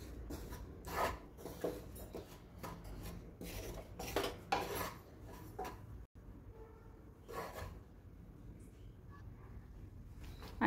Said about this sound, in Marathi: आता इथे हे बेसन थोडंसं हलकं भाजून घ्यायचं